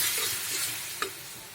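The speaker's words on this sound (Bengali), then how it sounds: "দিয়ে সুন্দর করে কষিয়ে নেব।" A spice masala is stir-fried in a pan for a fish roe curry, sizzling loudly and close with constant stirring and one sharp scrape near the middle, and no voices.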